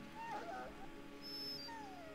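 A dog in the game Dragon Age: Origins whimpers and whines in a few high, wavering cries, faint and set against a low background hum.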